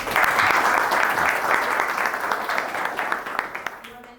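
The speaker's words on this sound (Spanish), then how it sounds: "Aplausos, por favor." A crowd applauds loudly at first, the clapping gradually thinning into scattered individual claps before dying out.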